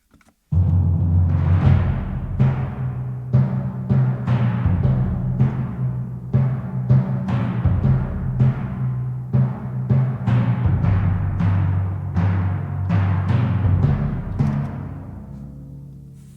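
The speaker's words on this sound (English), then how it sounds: "Let's listen to the accents, just bass drum and timpani." Loud orchestral accents from bass drum and timpani, repeated booming hits with strong low rumble and sustained resonance, struck roughly every second over about sixteen seconds, alone without talk, fading at the end.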